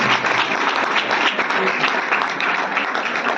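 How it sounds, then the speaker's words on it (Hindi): Energetic clapping from a crowd at a teacher's birthday celebration, a dense, sustained burst of many hands close by, with faint voices mixed underneath. "मैं जोरदार ताली बजाइए यार,"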